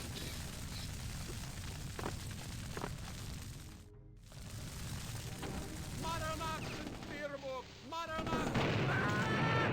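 Dual-wielded guns firing in the 1997 first-person shooter Blood, a few sharp irregular shots cutting through dense game noise with other in-game effects.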